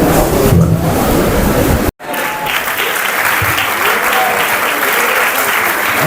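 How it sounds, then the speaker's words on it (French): Audience applause at a women's day celebration at an Adventist college, a sustained loud crowd clapping that breaks off sharply for an instant near two seconds, then resumes and continues steadily. "Est-ce qu'on peut applaudir"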